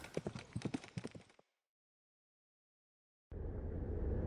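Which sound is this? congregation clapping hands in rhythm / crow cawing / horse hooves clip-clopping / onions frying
horse hooves clip-clopping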